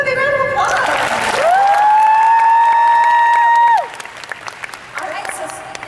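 Convention panel audience at an anime expo Sailor Moon panel breaks into loud applause and cheering, with whoops rising over steady clapping for several seconds before fading as a voice begins talking.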